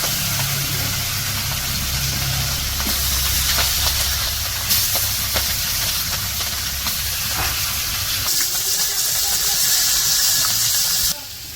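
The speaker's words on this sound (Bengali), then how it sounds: "তো মাছ ভাজবো, কড়াই তেল গরম করে নিতেছে।" Two kilograms of fish seasoned with salt, chili and turmeric fry in hot oil in a wok, giving a steady, loud, dense sizzle and hiss that carries on throughout with small crackling pops, with no talking.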